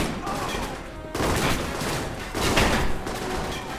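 Allied gunfire in the espionage action game Alpha Protocol, a dense, continuous crackle of rapid shots rising and falling in bursts across a few seconds, with a faint voice partly under it.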